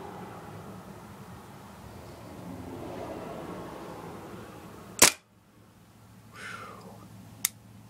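A Colt M1911A1 airsoft pistol fires two sharp, loud snapping shots a few seconds apart, the first stronger, against a quiet background of faint room noise.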